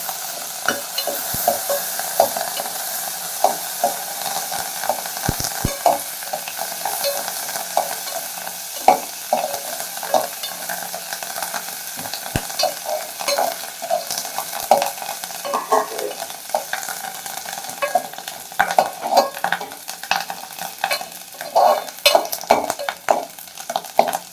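Spices and dried vathal crackle and sizzle steadily in hot oil while tempering drumstick sambar, with scattered pops and the scrape of a spoon stirring the pan throughout.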